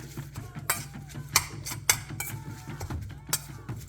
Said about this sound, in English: Gonna stir that up a bit.